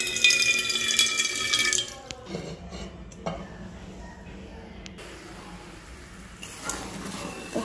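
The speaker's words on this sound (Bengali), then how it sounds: "একটু ধুয়ে নেই" A kitchen tap gushes loudly for about two seconds while something is rinsed under it, then it drops to a quieter background with a few faint clinks and knocks.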